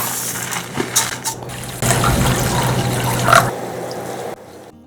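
Basmati rice is rinsed in water for Hyderabadi dum biryani, with splashing and swishing that starts with scattered drips and sharp clinks, then swells into a steady, close rush of running water before it abruptly quietens.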